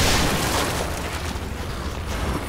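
A short, muffled boom rumbles through the video game The Executioner, a single dense burst that fades quickly.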